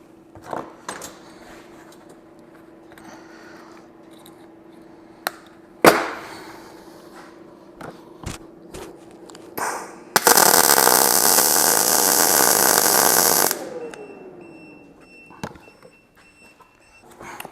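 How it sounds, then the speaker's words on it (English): A welder running on an AllPowers R1500 power station, welding 16 gauge steel, gives a loud, steady crackling hiss for about three seconds, preceded by scattered clanks and faint background sounds. "We're just trying to weld 16 gauge metal."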